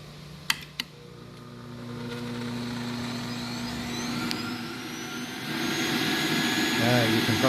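A Breville 800JEXL Juice Fountain Elite juicer clicks twice as its switch is flicked, then the motor spins up into a steady, close whirring drone that rises and levels off, like a soft hair dryer.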